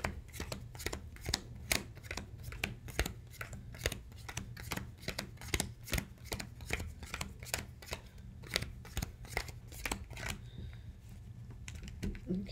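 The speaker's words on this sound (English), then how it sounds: "Let me shuffle this really good." A deck of tarot-style cards is shuffled close up in a rapid, irregular run of soft slaps and riffles that goes on for several seconds at low volume.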